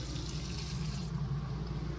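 Water runs from the faucet into a round sink inside a 2025 Forest River R-POD 171 travel trailer, a close, steady rush that thins out after about a second.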